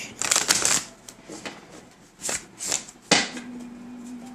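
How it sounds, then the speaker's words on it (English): Tarot cards being shuffled and drawn from a deck, with several quick riffling bursts and soft snaps of cards, close and fairly loud, with brief pauses between. "I'm going to pull 3 cards here and see what comes up in this deck"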